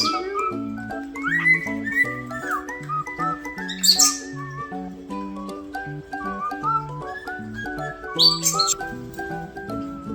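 A pet cockatiel chirps and whistles in a lively run of bright tuneful notes and sharp tweets, close and clear, with short pauses between phrases.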